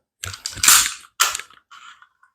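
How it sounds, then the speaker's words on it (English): A SIG Sauer P320 pistol slide is locked back and then released, giving a quick series of sharp metallic clicks and a crisp snap forward, close and loud, followed by a faint small rattle. "we're going to go ahead and lock the slide back and we're going to pull it forward"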